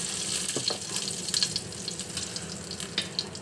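Food frying in a pan over lowered heat, with a soft steady sizzle and intermittent scraping as it is stirred, during a home fish curry with potato, cauliflower and white eggplant.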